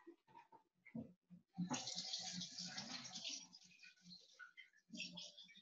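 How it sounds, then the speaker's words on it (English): Tap water runs steadily into a sink while hands are washed in a home kitchen during a baking class for apple raisin squares, with a few knocks and faint voices before the flow starts. "Just gonna wash my hands."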